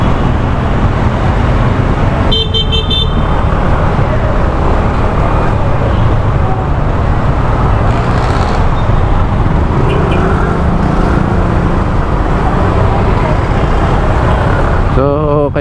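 Dense street traffic in Acacia, Malabon, near Monumento, with jeepneys parked to load passengers: a continuous loud roar of engines and passing vehicles, with brief horn-like tones and a burst of noise near the end.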